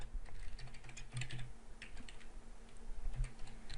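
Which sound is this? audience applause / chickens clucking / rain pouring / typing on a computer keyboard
typing on a computer keyboard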